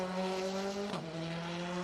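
Onboard a rally car on a circuit stage at Donington Park, the engine holds a steady droning note, then briefly drops and shifts pitch as the driver changes gear, heard close from inside the cabin.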